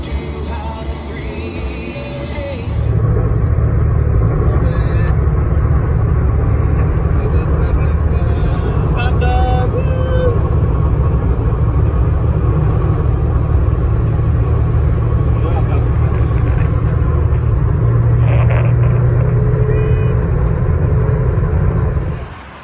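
Engines in a long queue of exotic cars hold a steady low rumble for a long stretch, with occasional brief revs and shifts, and a voice talks over it at times.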